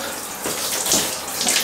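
Water runs from a tap into a bathtub, rinsing bleach off its sides, a close, steady splashing rush with shifting surges.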